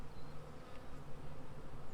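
Honey bees hum steadily around an opened hive during a winter check of food stores and brood, a dense, continuous close buzz with faint higher whines from individual bees.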